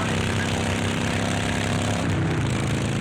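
Loud, steady motorcycle engine roar at close range, a constant droning rumble that drowns out a radio commercial, with a slight shift in tone partway through.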